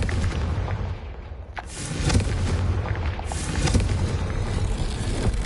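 Confringo blasting spell explosions in Hogwarts Legacy on PS5, a booming burst near the start followed by rumbling, crackling blasts and a steady low roar throughout, with no voices.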